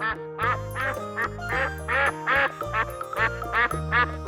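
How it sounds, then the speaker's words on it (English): A duck on a farm pond quacking in a rapid series of about ten loud, nasal calls over a steady musical backing. "Ducks say quack."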